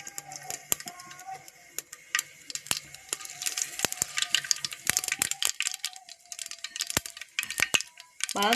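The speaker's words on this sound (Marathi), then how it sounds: "आता याच्यात मोहरी टाकून घ्यायची आणि मोहरी चांगली तडतडून द्यायची." Mustard seeds splutter and pop in hot oil inside a pressure cooker, sharp irregular crackles bursting in quick scattered clusters over a faint background hiss.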